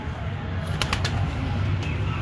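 Breeder pigeons on a rooftop in Kasur coo in a low, continuous murmur close by while wings flap in a few quick bursts.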